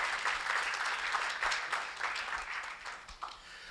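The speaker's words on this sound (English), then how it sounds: "So let's give them a big round of applause for our pharma." Audience applause at a scientific conference (KDSG 9th Annual, 2024), given for the event's pharmaceutical sponsors: a steady, dense wash of many hands clapping at moderate loudness that thins slightly toward the end.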